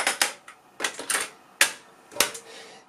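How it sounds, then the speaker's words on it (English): Sharp mechanical clicks and clunks as a tape is swapped in a 1971 Canon Repeat Corder L loop recorder, a handful of crisp snaps spaced irregularly, close and alone with no talk. "I'll just quickly swap the tape out."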